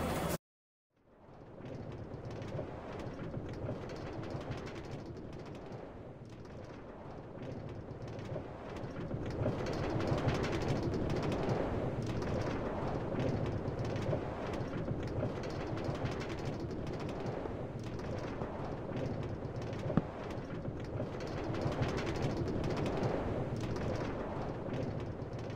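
A New York subway 4 train to Woodlawn runs at speed, a loud continuous rumble and rattle heard from inside that builds after a brief quiet start and holds steady, with clanks and screeches mixed in.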